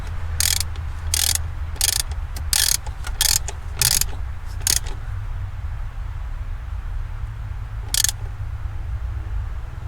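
Ratchet wrench tightening a 13 mm nut on a Porsche Cayenne S 958 with the 4.8L engine, heard as several quick bursts of clicking, then a pause and one final click, close up with no talking.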